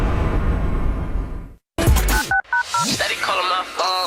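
Telephone dialing tones in a radio show jingle: a short series of clipped DTMF beeps over punchy music and sweeping effects, loud and close, following a brief gap after a spoken intro.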